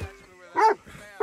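A dog in the video game Red Dead Redemption gives two short barks about half a second apart, close and moderately loud, with faint game ambience between.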